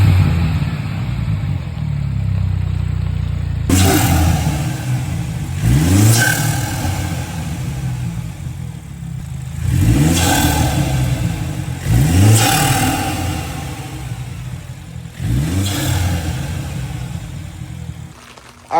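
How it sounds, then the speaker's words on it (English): A 2017 BMW 330i with a B48 turbo engine and BMS intake revs repeatedly, rising pulls with audible turbo spool, loud and close, in several repeated surges over a steady engine drone. "there was some sound clips of the intake, and overall you can hear it so much more. You can hear the turbos, you can hear the spool"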